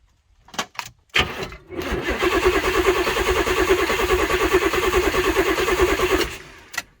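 A vintage 1970s big-block jet boat engine, missing plug wires and fed starting fluid, cranks a few times, then catches and runs roughly for several seconds, loud and close, before cutting out abruptly.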